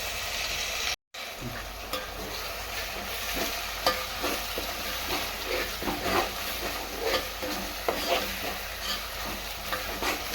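Tomato puree frying in oil with ginger paste and onions for an old-style fish curry, a steady close sizzle with repeated scraping stirs throughout, no talk.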